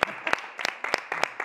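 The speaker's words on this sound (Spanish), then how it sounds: "Un aplauso para Jesús" Group of people clapping in short bursts, uneven and sparse rather than a full ovation, with individual claps standing out sharply in a small room.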